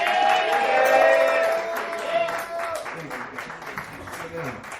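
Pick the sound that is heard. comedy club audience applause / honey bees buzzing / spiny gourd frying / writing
comedy club audience applause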